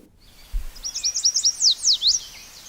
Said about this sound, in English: That's my yellow warbler call alerting me that someone is in my virtual bird hangout house.